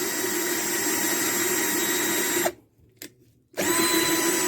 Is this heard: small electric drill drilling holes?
yes